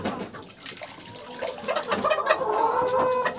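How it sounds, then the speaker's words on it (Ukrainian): Hen in a backyard flock of bantam chickens, with ducks nearby, clucking in a steady run of short calls that rise toward the end, close by among other farmyard bird noise. "Вона бідна курочка така. Несеться."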